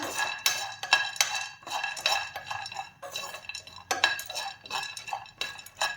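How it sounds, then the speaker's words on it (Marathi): Peanuts and dal being dry-roasted in a pan, repeated scraping and stirring bursts with light rattling of the dry grains against the pan, close and steady, with no voice. "तर सर्वप्रथम शेंगदाणे आणि डाळ आपण छान असं इथे भाजून घेऊया।"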